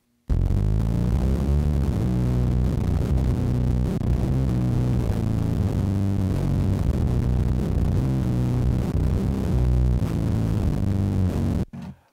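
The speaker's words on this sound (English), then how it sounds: "I'm running the bass through a ZVEX Mastertron." A bass guitar run through an MXR Dynacomp compressor and a ZVEX Mastertron fuzz pedal, playing a loud, continuous, thick buzzing fuzz line with throbbing low notes for about eleven seconds before stopping abruptly.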